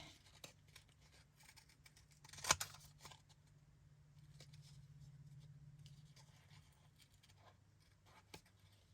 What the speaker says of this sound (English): Now we can trim this fella up.